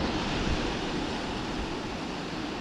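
Upper Boulder Creek Falls roars as a steady, loud wash of broadband rushing water on a wilderness trail toward Appleton Pass, continuous and close, with no voices.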